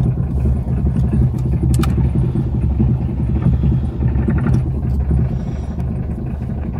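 Old car nicknamed titine, its engine running with a loud, steady low rumble and light clatter throughout, close by and without talk.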